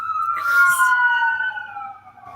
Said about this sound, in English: The sirens are going.